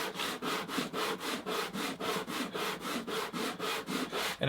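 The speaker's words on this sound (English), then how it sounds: "I'm just going to take a small piece of sandpaper. This is 220 grit." A leather edge sanded by hand with 220 grit sandpaper on a workbench, quick rhythmic back-and-forth scratching strokes, about four per second, close and fairly quiet.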